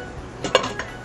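Metal lid set onto a soup pot, a brief cluster of clinks and a ringing clatter lasting under a second, close and alone.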